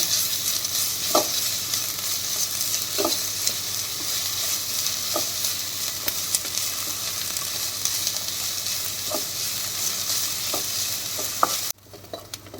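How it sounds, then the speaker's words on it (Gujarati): Carrot and capsicum, with cabbage, sautéing in a pan, a steady broad sizzle with several soft spatula scrapes and taps spaced through it, close and continuous, no talking. "આને આપણે 3 થી 4 મિનિટ આવી રીતે આમ સાતળવાનું છે."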